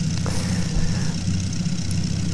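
A Brill railbus with a 4-cylinder gasoline engine, built in Philadelphia, idles in Trainz 2019 with a steady, close, throbbing low chug and no talk.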